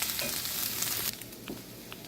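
Onions and bacon fry in a pan for cheesy bacon potatoes, a steady close sizzle that drops slightly in level midway, with faint stirring scrapes and no talk.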